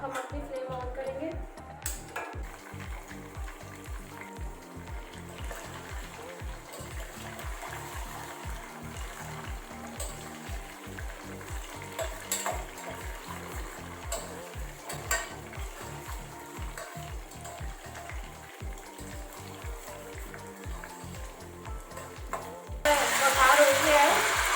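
Oil heating in a pan for a tadka tempering for Gujarati khaman dhokla, a steady crackle and sizzle with a pulsing stirring rhythm throughout, growing louder and brighter near the end.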